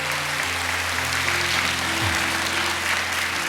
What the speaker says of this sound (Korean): 우리 살아계신 하나님 앞에 한 번 더 영광의 박수를